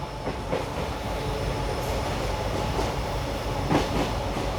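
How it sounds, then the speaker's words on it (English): An express train on the Mangaluru–Bengaluru line pulls into Buntwal station, giving a steady rolling rumble with soft clickety-clack wheel beats and a few brief squeals heard from inside the coach. "we are pulling into Buntwal station, 35 minutes ahead of schedule"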